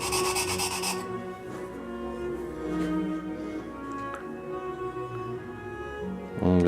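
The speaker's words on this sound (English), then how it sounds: "Flattening the cap iron." The cap iron of a Danish wooden smoothing plane being flattened on 220 grit abrasive, a continuous gritty rubbing rasp in steady back-and-forth strokes, close and fairly loud, with no voices.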